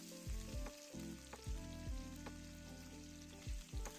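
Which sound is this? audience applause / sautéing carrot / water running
sautéing carrot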